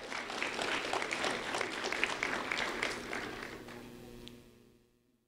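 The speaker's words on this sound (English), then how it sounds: "a round of applause for Judas McKenzie, please" Applause from a gathered crowd honoring a high school senior at a community recognition event, steady at first, then thinning and fading out to silence near the end.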